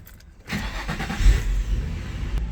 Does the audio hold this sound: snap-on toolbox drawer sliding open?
no